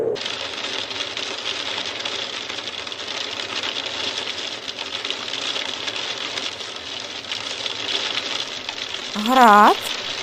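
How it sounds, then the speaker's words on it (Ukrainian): Hail falls in a dense, steady rattling patter that holds at an even level throughout, and a short voice breaks in just before the end. "Град."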